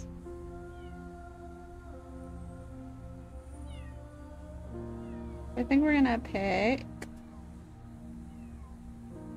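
Cats at a shelter in the video game Copycat give a drawn-out meow midway through, loud and close, over a soft musical background with a voice talking.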